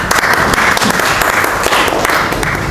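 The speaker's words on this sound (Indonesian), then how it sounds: "Silahkan kepada Mbak Aulia, kita juga sambut dengan aplaus ya" An audience claps steadily through the whole stretch, a dense, even roar of hands at a teacher performance exam session as a group's presentation begins, with no talk over it.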